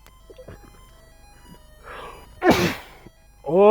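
A sneezing strike attack in the Final Fantasy Adventure video game gives one short, loud, noisy burst with a tonal edge, set among soft game effects. A voice then breaks in with an exclamation.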